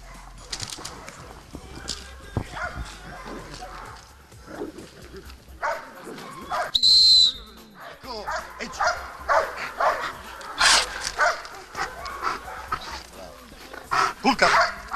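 A trained guard dog barks and growls in repeated aggressive bursts during an attack command at a canine training school, with someone talking and shouting commands over it.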